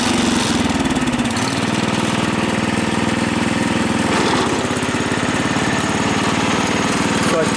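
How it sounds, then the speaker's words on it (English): Husky 600 lawn tractor with a Kohler K141 engine running steadily, a loud, close, continuous engine drone with a rough pulsing rhythm throughout. "I've been using this tractor for days to get to work."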